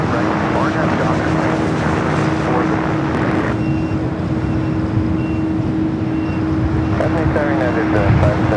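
A jet taking off from runway 25 right at LAX fills the air with a loud, steady, broad roar that holds without letting up, with radio voices mixed in underneath.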